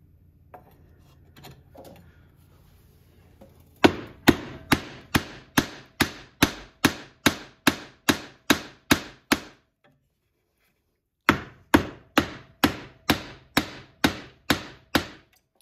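Sharp, regular hammer blows ring out close by as a knife is hammered through a wooden 2x4 board, a rapid run of about fifteen strikes, a pause, then another steady series of hits.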